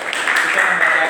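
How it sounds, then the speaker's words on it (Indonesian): A school class applauds a student group after its discussion presentation, with brief close clapping mixed with voices in the room. "beri tepuk tangan untuk kelompok 1"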